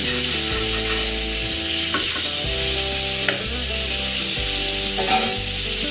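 A fish fillet fries in oil after being flipped, giving a continuous bright sizzle. Louder background music with steady tones plays over it.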